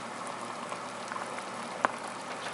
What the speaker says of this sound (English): There we go, look at that boiling there.